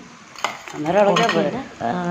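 Egg being stir-fried with chopped adalodakam leaves in a pan: close metallic scrapes and clinks of a utensil against the pan over a soft sizzle, with a voice speaking at the same time.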